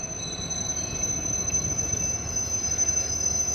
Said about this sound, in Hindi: सुजानगढ़ रेलवे स्टेशन पर DRM जोधपुर की गाड़ी पहुँच चुकी है।